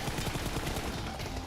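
Rapid automatic gunfire spraying in PUBG Mobile during an esports match, a dense fast burst of shots hammering out in quick rhythm for over a second, loud and close.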